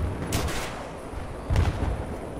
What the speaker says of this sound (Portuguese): Olha, só no tiro de RPG